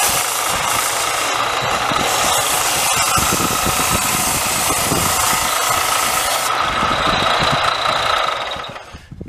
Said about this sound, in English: So let's hit the belt sander and see what I can do.